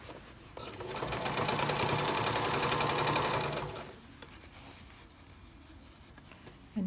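A sewing machine runs up the side seam of a denim jacket in one fast continuous burst lasting about three seconds, nearby, then winds down to quiet room noise.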